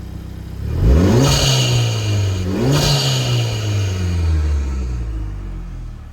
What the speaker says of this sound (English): I'm going to give it a rev to about 3k.